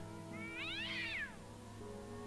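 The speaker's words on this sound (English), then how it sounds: "Immediately, the cat hisses at you and begins to circle nervously." A cat in the video game Neverwinter Nights 2 gives a single drawn-out, rising-and-falling feline cry over a steady background hum, with no voices.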